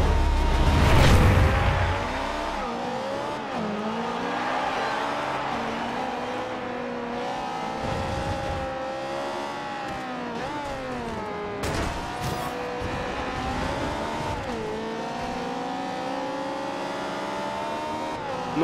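Race car engines in a Forza Horizon 2 street race, loud sustained revving that rises and falls through gear changes, with other cars passing and a brief burst of tire noise.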